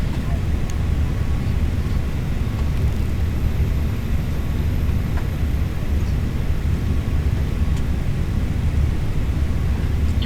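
Airliner landing at Charlotte in Microsoft Flight Simulator: a steady, loud, broadband engine and airflow roar with a low rumble, continuous and unchanging throughout.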